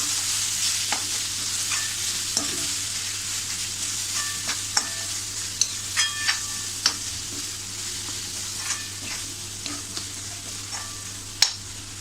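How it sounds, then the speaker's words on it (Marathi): Garam masala and coriander powder being sautéed on low gas for a pea curry: a steady, soft sizzle with intermittent spoon stirs and light scrapes, close by and with no talking. "ही सुद्धा आपल्याला अशी छान मंद गॅसवरच परतून घ्यायची आहे."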